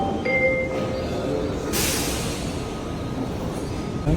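The SkyTrain at Houston airport pulls away from its terminal platform with a steady rolling rumble. A brief electronic chime tone sounds near the start.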